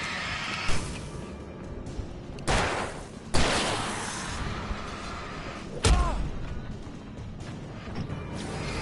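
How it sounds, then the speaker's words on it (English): A rifle fires in Alan Wake Remastered, several spaced sharp reports with echoing tails, mixed with thuds, mechanical clacks and dark ambient game sound at moderate loudness. "let's give the rifle another chance"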